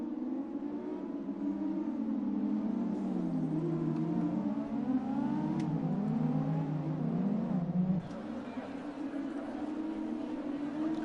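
A safety car laps the Monaco street circuit in an F2 racing video game, its engine note a steady, loud drone that rises and falls in pitch through the corners, dropping sharply near the end before settling again.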